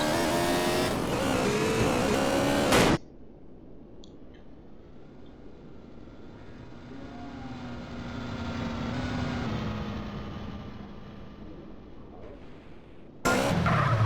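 Car stunt jump in the GTA San Andreas game: loud game audio at the start, then a quieter airborne stretch with faint engine whine rising and falling, before loud game sound returns.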